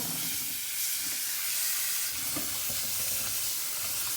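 Running water rinsing sliced celery, potatoes and carrots for a crockpot roast, a steady close hiss of flowing water with faint occasional bumps, continuous and without speech.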